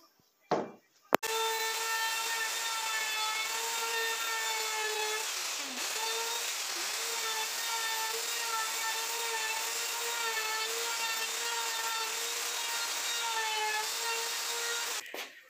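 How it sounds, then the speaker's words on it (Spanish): A handheld router with a small roundover bit cuts a curved edge along a wooden drawer front. A brief start-up burst gives way to a steady, loud, high-pitched whine that stays even for about fourteen seconds, dipping briefly as the bit bites into the wood. "esta fresita que hace ese corte ahí, curvo"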